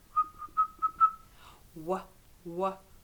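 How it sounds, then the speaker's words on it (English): A series of short, clear whistled notes at one pitch, five quick toots in a row, followed by a voice making two brief sung sounds. "Do you know how to whistle?"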